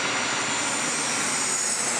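Delta A321neo jet airliner on a go-around at San Diego International Airport, a steady, loud broadband engine roar with a high whine, sustained and unbroken throughout.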